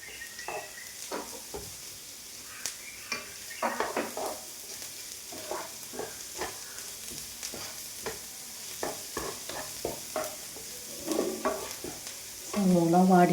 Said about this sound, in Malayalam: സവോള വാടിയിട്ട് മൊരിയേണ്ട ആവശ്യമില്ല കേട്ടോ.